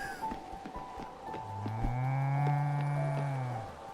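A cartoonish cow in the video game Spiritfarer gives one long, drawn-out moo lasting a couple of seconds, clear and steady over a soft bed of game music.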